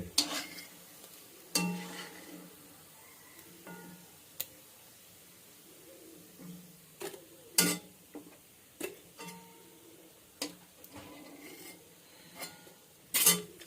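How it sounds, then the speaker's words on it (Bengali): Fish fries quietly in a pan with a soft, continuous sizzle, broken by frequent sharp clicks and scrapes from turning the pieces. "রেডি আমার মাছ ভাজা।"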